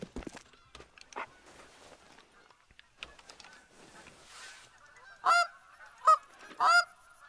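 Geese honking in theHunter: Call of the Wild, with three loud, close honks near the end, each short and nasal, after a stretch of faint rustling and scattered footsteps.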